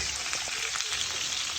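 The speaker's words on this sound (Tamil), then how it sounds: "ஒனியன் அதோடு சேர்த்து கொஞ்சம் உள்ளியும் இப்போ சேர்க்குறேன்." Onion and garlic dropped into a hot pan for fish curry, a brief, dense, even hiss of sizzling oil, close and steady throughout.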